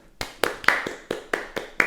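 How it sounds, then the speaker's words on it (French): Two podcast hosts clap together on an episode about the life of an artist: about eight sharp, close handclaps in an uneven rhythm, with no voices over them. "Tu veux qu'on applaudisse maintenant?"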